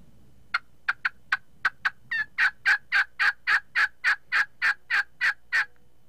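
A hunting call sounds a wild turkey's cadence: a few sharp, evenly spaced clucks, then a quick rattle and a steady run of loud, rhythmic yelps, close and clear against quiet surroundings.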